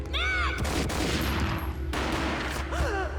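Gunfire in a third-person shooter video game: several sharp, loud shots crack out over a low rumbling game score, with brief whooshing effects.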